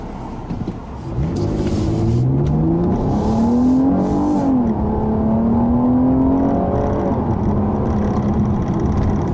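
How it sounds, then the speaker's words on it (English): A 2015 Chrysler 200 S being driven, its engine note rising and falling through gear changes in a steady, fairly loud in-cabin drone that climbs in pitch, with no talk. "I'm just getting a quick drive of the new 200"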